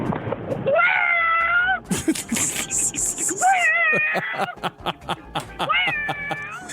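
A person mimics a cat yowling outside at night, drawn-out wavering meow-like wails in several bursts with short breaks between, loud and close, with a brief breathy noise in the middle.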